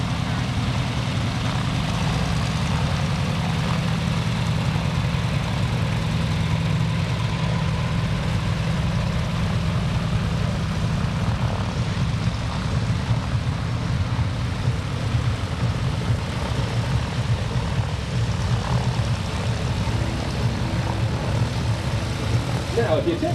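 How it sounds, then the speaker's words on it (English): Propeller aircraft at an air show taxi back along the ground in close trail formation, engines droning steadily low and continuous throughout at moderate distance. "they will fly close formation on the ground as they taxi back in trail formation"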